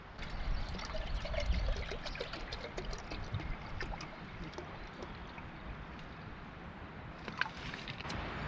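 Boiled water is poured to make a brew at a storm-hit camp, a soft trickling and splashing pour that swells early and fades, with scattered small clicks and outdoor background.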